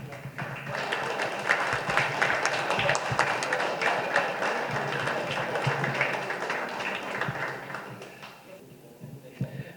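An audience applauds members of a council at a board installation ceremony, a steady wash of many hands clapping in a room for several seconds before tapering off.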